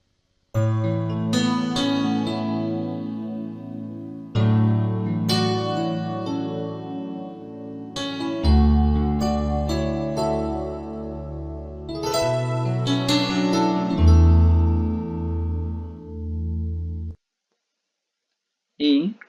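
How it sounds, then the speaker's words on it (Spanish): Synthesizer, an instrument with fully electric sound generation, plays sustained harmonic-rich chords and notes in several phrases across about seventeen seconds, loud and close, followed by silence with a brief sound at the very end. "tenemos un sintetizador y suena así"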